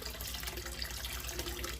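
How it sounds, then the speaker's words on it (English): Distilled white vinegar pours in a short, steady liquid stream into a pot of beef tripe, a soft, continuous splashing trickle. "And then we're going to add some distilled white vinegar."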